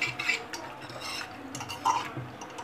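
A spoon stirs cooked toor dal with spinach in a pressure cooker pot, producing soft wet sloshing and a few light metallic clinks against the vessel, close and quiet.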